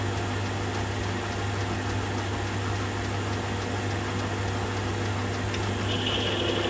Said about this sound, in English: this lathe I've got here is a hobby lathe made by Axminster, and it's the C1 micro lathe